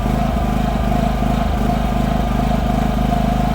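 A Predator 5000 generator runs slightly rough on high-octane gas after eco mode is switched off. It gives a loud, close, continuous engine drone with small regular dips where it sputters.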